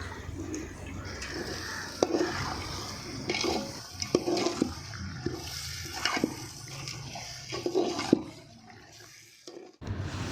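Water pours and splashes into a biryani pot holding beef, a continuous liquid rush with irregular splashy bursts, close by.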